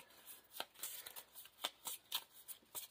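Cards for the Marvel Champions card game being shuffled by hand, a faint, close riffling and flicking in quick bursts with soft pauses between.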